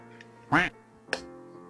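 A person imitates a duck with two nasal quacks, the first loud and drawn out, the second shorter and quieter, separated by a brief pause.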